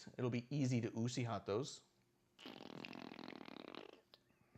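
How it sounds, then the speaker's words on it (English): A toy fart machine lets out a long, buzzy raspberry noise after someone speaks, the effect loud and close in a quiet room, ending abruptly. "This is a little fart machine?"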